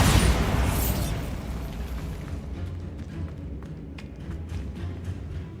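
A Bombarda spell explodes in the Hogwarts Legacy video game, blasting open a barricaded archway with a loud, immediate boom that rolls off into a long rumbling decay with scattered debris-like clatter.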